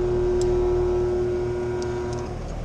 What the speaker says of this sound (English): Compressor trying to start.